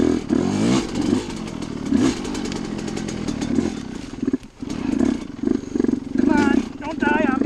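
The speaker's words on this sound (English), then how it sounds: "I'm going to try to ride the whole thing with the big bike." Big dirt bike ridden on a rough trail, engine revving and bogging in uneven bursts up close, with clattering over bumps and some talk mixed in.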